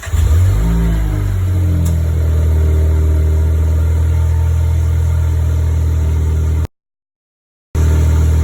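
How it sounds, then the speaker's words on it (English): A 2019 Volkswagen Jetta 1.4T fitted with an aftermarket intake idles loudly up close, swells into a quick rev and then settles into a steady drone before a brief dropout cuts the sound. "I will do a couple revs so you can hear what it sounds like with the aftermarket intake on it."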